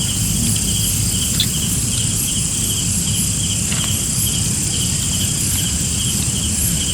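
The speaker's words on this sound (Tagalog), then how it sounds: "Kuliglig ang maririnig nyo dito." Crickets chirp steadily and loudly in a quiet abandoned factory area in Cavite, a dense continuous insect drone with a low rumbling background and no talking.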